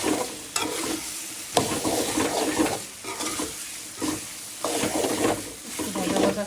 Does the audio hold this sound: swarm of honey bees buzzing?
no